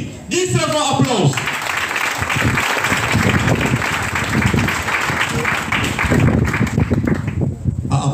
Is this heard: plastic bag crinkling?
no